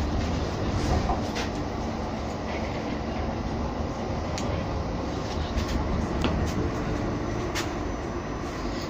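Edmonton ETS LRT Metro Line train running northbound, a steady loud interior rumble and rail roar throughout with faint clicks of the wheels, no talk heard over it.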